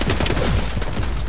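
Gunfire in the shooter video game The Club, set in the canals of Venice, a loud burst of rapid shots and booms packed into a brief, dense stretch with no talking.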